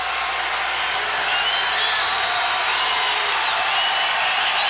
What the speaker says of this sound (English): listen to the Cyclone fans rumble